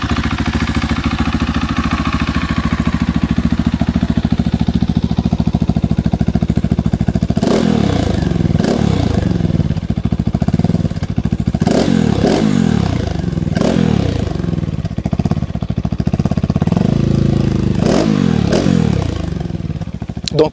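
A GasGas SM700 motorcycle fitted with an X-Race exhaust, idling with a steady low thrum before a series of sharp revs that rise and fall repeatedly, close by and loud, with no talking.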